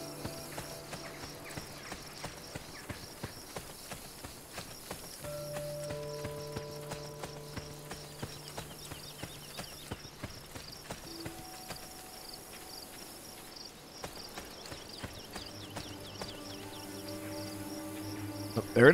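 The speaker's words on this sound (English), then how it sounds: "Yes, getting the horse to jump off some cliffs." Horse hooves clip-clopping in Assassin's Creed Brotherhood as the rider heads toward cliffs, a steady run of hoof beats under game music and insect-like chirps, no talk.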